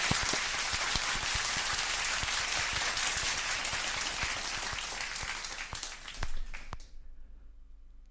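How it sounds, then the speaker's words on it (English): Steady applause from a large crowd fills most of the clip with dense clapping, then cuts off abruptly near the end, leaving quiet background. "So a round of applause to everyone in the chat."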